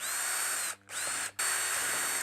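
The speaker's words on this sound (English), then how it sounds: "I'm just gonna mark a few holes, and we'll get them drilled out" A power drill bores holes in metal for a catch can bracket on a first-generation Nissan Titan, whining loudly and steadily with two brief stops between runs.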